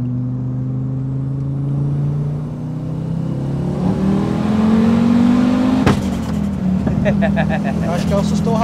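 A 600 hp turbocharged Audi S2 with a full three-inch stainless exhaust revs loud and close, pitch climbing steadily before a sharp crackle near the end and a rougher, settling drone.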